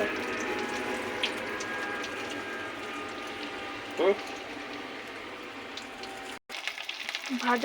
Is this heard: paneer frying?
yes